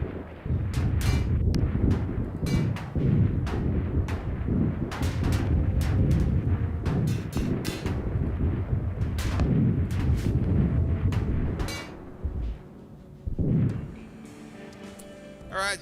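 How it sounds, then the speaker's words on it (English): Cannon fire in a colony-building video game crashes out in repeated sharp, booming shots at an irregular rapid rhythm, loud and dense, thinning out toward the end with no talk over it. "There's a uranium stock cannon pointing your way."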